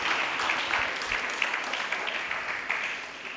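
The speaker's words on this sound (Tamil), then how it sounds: "கைத்தட்டுங்க" An audience applauding at a Christmas celebration with a priest and hostel students, a steady wash of clapping that swells early then gently fades, moderately distant with no speech over it.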